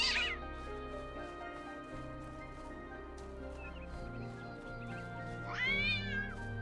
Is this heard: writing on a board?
no